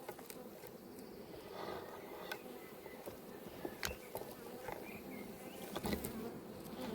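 Honey bees buzz around an open hive at an apiary during a nectar flow, a soft steady hum of many insects with occasional louder fly-bys passing close, and no talk.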